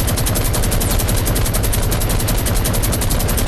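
Rapid automatic gunfire from a video game, dense and continuous, with fast, evenly spaced shots playing loud and unbroken throughout.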